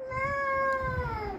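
A child imitates a cat, giving one drawn-out, steady meow at close range with a little background noise.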